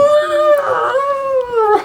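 A person gives a war cry in a sustained, wavering howl that imitates a junkyard dog, rising and falling in pitch. The howl is close and loud and ends with a brief catch of breath.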